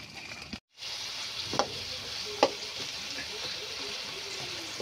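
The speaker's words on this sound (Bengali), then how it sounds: "এই যে দেখতে পাচ্ছেন শুধু তেল দিয়ে আর তেল লবণ দিয়ে আর কি রান্না করা হচ্ছে" Crickets frying in oil with salt give a steady, close sizzle with a few soft clicks and pops across it, after a brief cut near the start.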